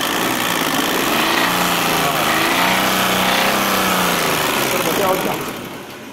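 A Chevrolet Spark engine with a knocking crankshaft runs close by in a continuous loud idle with a rough, rattling texture, dropping off slightly at the end; someone speaks over it.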